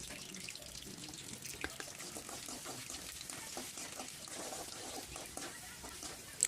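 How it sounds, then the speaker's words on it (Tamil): Ginger and garlic sautéing in hot oil in a pan for spicy kaara chutney, a soft steady sizzle with scattered crackles and light stirring scrapes, fairly quiet and continuous. "ஆயில் ஹீட் ஆனதுக்கப்புறம் நம்ம எடுத்து வச்சுருக்கிற இஞ்சி பூண்டை அதில் போட்டு வதக்கிக்கோங்க"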